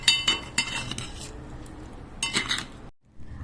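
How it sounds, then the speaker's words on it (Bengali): A spoon clinks and scrapes against a bowl while paneer is mixed with curd and Kashmiri chilli marinade, with several sharp metallic taps and a soft stirring rustle close by. "এবার সবকে ভালো করে আমি মাখিয়ে নিচ্ছি"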